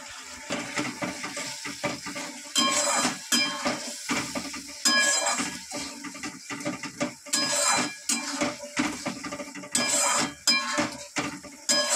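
Spice paste with turmeric sautéed and stirred in an oily pan, with close, repeated scraping and clinking of a utensil against the pan over a soft background sizzle, in uneven bursts.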